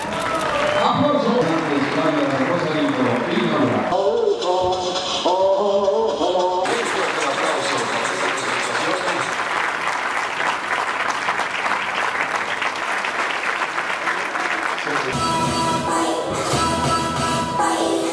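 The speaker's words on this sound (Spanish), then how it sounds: "Aplauso." An audience at a government event announcing school uniform grants gives a long round of applause, dense and steady clapping that carries on for many seconds, with speech around it at the start and end.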